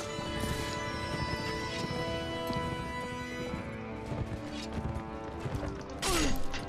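A horse in a video game, with rapid clip-clop hoofbeats and whinnying laid over dense game music and effects, continuous and fairly loud, no talking.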